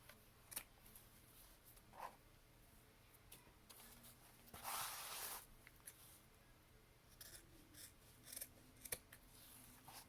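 Scissors snipping pieces of a journal cover, quiet close-up cuts in short scattered bursts with one longer shearing rasp near the middle, no talking.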